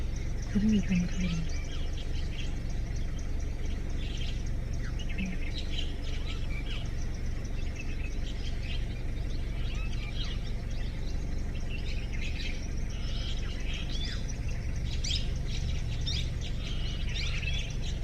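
Small birds chirp and tweet steadily along a drive through the dense forest of Masinagudi, Moyar and Singara, the calls thin and scattered over a constant loud hum of road and engine noise.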